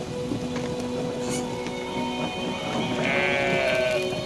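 Sheep bleat a few times in Brothers: A Tale of Two Sons, fairly close, over a steady game ambience with light chiming in the background.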